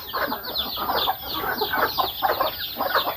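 Several farmyard chickens cluck close by in a steady, busy chatter of repeated calls, with no talk.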